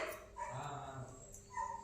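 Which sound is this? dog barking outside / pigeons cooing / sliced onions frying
dog barking outside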